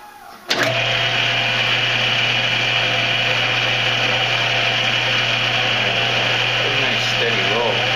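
A drill bit bores into aluminum, starting with a sudden jolt and then holding a steady, loud high-pitched whine for several seconds.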